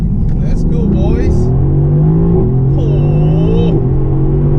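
A Mercedes-AMG GTC engine roars under full throttle from inside the cabin, a loud, steady, deep drone with rising pitch sweeps as it pulls, while people talk over it.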